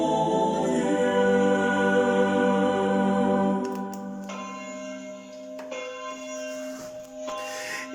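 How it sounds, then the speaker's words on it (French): A small church's bell rings with a long, resonant hum, then further strikes follow, each leaving a rich ringing decay. "au son de la cloche de cette belle petite église"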